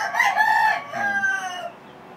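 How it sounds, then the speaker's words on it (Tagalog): A blue-legged breeding rooster crows nearby, one loud drawn-out call with a rising start and fading tail, alone with no talk. "Pero magandang manok yan."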